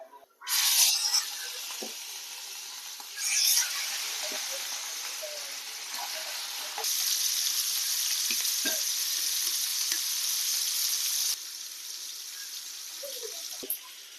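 Prawns frying in hot oil, dropped in batches so a loud, bright sizzle surges several times and then holds steady for long stretches, heard close up with only a few faint knocks in the background.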